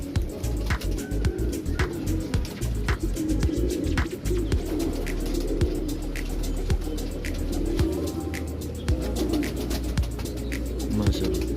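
Neel Dumba pigeons coo repeatedly in a steady, throaty rhythm, close and clear, with sharp clicks and taps scattered through and a low background hum.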